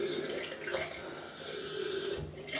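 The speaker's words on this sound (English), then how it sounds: "just throw some water in there" Water poured onto shaving soap splashes and trickles at close range, running steadily for a couple of seconds with a soft, gurgling wash.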